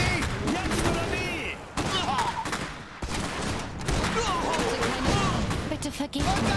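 Bursts of gunfire ring out in Iron Harvest during a battle for a railway station, repeated volleys and rattling shots crowding one another with short breaks, loud and busy, while voices speak over the fighting.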